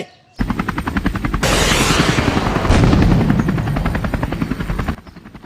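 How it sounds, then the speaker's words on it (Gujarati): A loud, close helicopter with rapid rotor chopping, rising into a roaring swell mid-way before the rhythmic thumping continues and cuts off. "આ તો આતંકવાદીનું હેલિકોપ્ટર છે"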